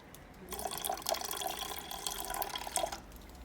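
Water pours into a bowl of glutinous rice with coconut milk, a soft continuous splashing trickle with a few drips, close and quiet, lasting a few seconds.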